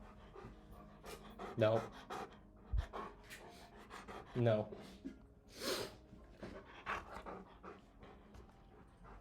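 A dog pants and whimpers close by, with snorting breaths and small whines in irregular bursts, while a person speaks briefly.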